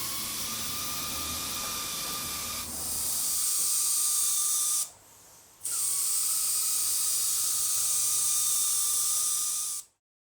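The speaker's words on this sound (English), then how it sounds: "I'll spray a burst, just a thin burst around the sides here," Spray gun hissing as it lays a thin burst of stain around the sides of a laminated-neck guitar: a steady, close, loud spray that cuts out briefly midway, resumes, then stops abruptly.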